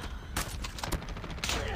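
Gunfire in an online ranked shooter video game with a shotgun in play, a rapid cluster of sharp shots in bursts, heard alongside gameplay noise.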